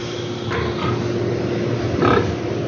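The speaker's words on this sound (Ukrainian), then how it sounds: "Остались в мене тут ще три свинки, три кабанчика." Young hogs grunting in a pen, a few small boars held for sale: low, rough oinking bursts, one near the half-second mark and a louder one around two seconds, over steady background noise.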